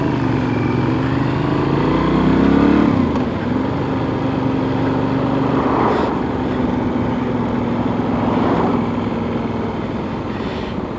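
Benelli 800 trail motorcycle under way, its engine droning steadily throughout with a rising and falling pitch as the throttle is worked, close and loud with wind rush and no talk.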